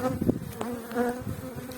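A steady, close buzzing of many honeybees droning together around a hive during an inspection, with individual bees passing near and fading in a continuous hum.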